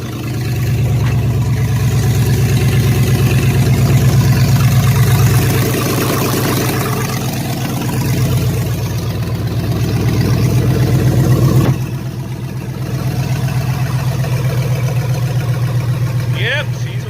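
A pickup truck engine idles loudly in a backyard, a steady low rumble that runs throughout, with a voice heard over it now and then.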